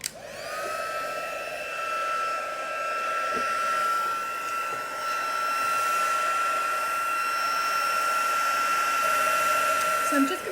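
A heat tool blows a steady, high-pitched whirring roar while drying and heat-setting ink and colour work on an artwork, running continuously close to the microphone; a voice speaks faintly underneath.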